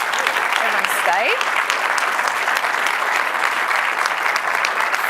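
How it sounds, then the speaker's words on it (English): An audience at a cancer genomics forum gives a panel a big round of applause, dense steady clapping from a full room, with a brief voice or cheer rising over it early on. "please give our panel a big round of applause"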